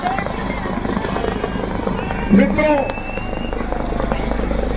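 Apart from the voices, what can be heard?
helicopter flying over a rally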